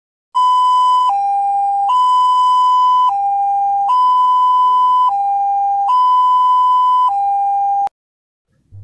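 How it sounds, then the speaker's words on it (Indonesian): A loud two-tone siren alternating high and low pitches in a steady, even cycle, close and alone, cutting off abruptly at the end. "Jika kakak mendengar suara seperti itu, artinya ambulans sedang menjemput pasien."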